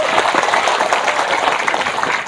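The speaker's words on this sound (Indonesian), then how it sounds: "Tepuk tangan dulu." Audience applause after a call to clap during an Indonesian speech about Banser, steady dense clapping at even loudness throughout, no voices over it.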